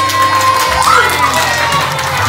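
A crowd at a children's science show cheers and shouts in a short, loud burst of excited voices, with a scattering of applause mixed in.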